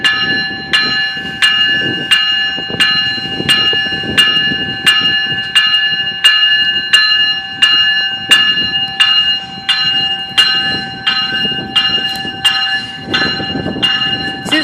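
Train making a slow reverse move at Danforth, with a crossing bell ringing in a steady, regular rhythm throughout, loud and close, over low rumbling rail noise.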